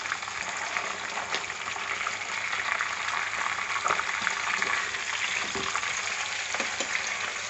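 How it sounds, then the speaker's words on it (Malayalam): Chicken pieces frying in hot oil in a pan, a steady, loud, close sizzle with occasional pops and spatters throughout, no voices. "ഇപ്പോൾ ഒരു സൈഡ് ഫ്രൈ ആയിട്ടുണ്ട് നമുക്കിതൊന്ന് പതുക്കെ മറിച്ചിടാം"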